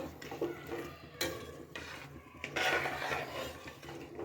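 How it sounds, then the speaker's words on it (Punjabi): A spoon scrapes and clinks against a pot while sweet rice is stirred with sugar, with several sharp metallic knocks and a stretch of gritty scraping and rasping near the end. No talk is heard. "ਖੰਡ ਪਾਉਣ ਤੋਂ ਬਾਅਦ ਨੂੰ ਚੰਗੀ ਤਰ੍ਹਾਂ ਮਿਕਸ ਕਰਾਂਗੇ"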